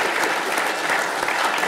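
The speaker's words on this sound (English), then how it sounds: "You can start clapping now." Steady audience applause fills a lightning-talk session at a FOSS4G SotM Oceania 2018 open-source mapping conference, a dense, even patter of many hands clapping alone throughout.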